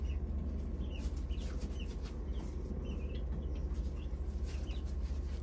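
Soft, scattered clucks and chirps from a few chickens over a steady low rumble, continuing throughout at a moderate distance.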